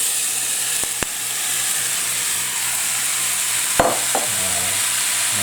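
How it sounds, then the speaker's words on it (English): Mutton pieces for a Sri Lankan curry hitting a pan of onions and garlic, a loud steady sizzle with a couple of sharp clanks and stirring scrapes. "I'm going to go ahead and put the mutton in."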